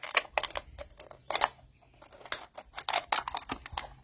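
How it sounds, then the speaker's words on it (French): Scissors snip through a homemade paper label, a run of crisp close cuts in bursts with short pauses between, quiet otherwise. "C'est plus facile de couper avec une paire de ciseaux."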